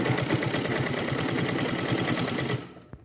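A sewing machine stitches a blouse collar in a fast, steady needle rhythm that runs loud and close for over two seconds, then stops, followed by a brief click.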